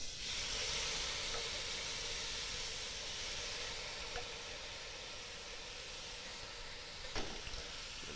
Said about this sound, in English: You want to get a nice healthy simmer, but not a boil.